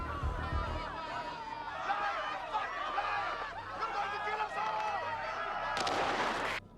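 Heavy gunfire erupts in the video game Watch Dogs Legion, with thudding shots and a sharp burst near the end under shouting and overlapping voices.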